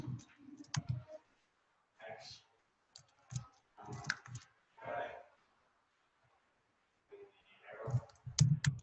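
Quick bursts of clicking keystrokes on a computer keyboard, coming in short separated clusters with quiet gaps between them, close and fairly soft.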